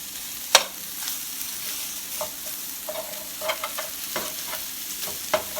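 Pre-cooked breakfast sausage browns in a pan with a steady frying sizzle, cut by scraping stirs and light utensil clicks, one sharp clack early on; no talking.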